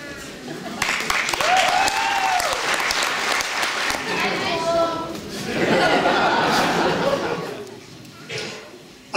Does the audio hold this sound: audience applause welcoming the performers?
yes